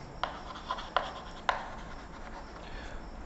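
Pen marks on paper as a chemical name is written by hand, giving a few soft, sharp scratchy strokes at an irregular pace, faint and close, with no talk.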